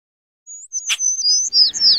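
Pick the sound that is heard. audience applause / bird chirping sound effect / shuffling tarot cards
bird chirping sound effect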